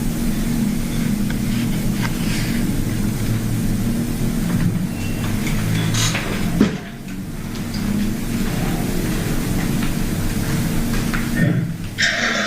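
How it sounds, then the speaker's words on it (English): A vehicle engine starts and idles, a steady low rumble under constant background noise with a brief dip in the middle and some faint voices. "there we hear the engine of the vehicle starting"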